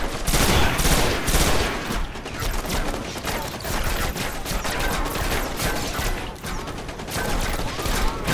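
Sustained automatic gunfire in the shooter game Destiny pours out in close, loud volleys, with heavier shots punching through the steady rattle.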